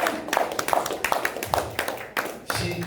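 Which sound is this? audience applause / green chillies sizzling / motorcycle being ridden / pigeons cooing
audience applause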